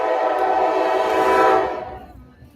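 A train rolls past with a loud, sustained horn blast, holding steady for about a second and a half before fading away.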